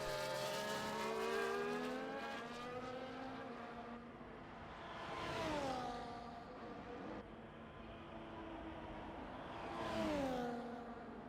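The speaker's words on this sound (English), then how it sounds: "Got some cars crossing the line." Race cars in a Formula 1–style racing game at the Brazil circuit pass in two waves, high engine whines rising and then dropping in pitch as each group sweeps by and crosses the line, moderately loud with no talk.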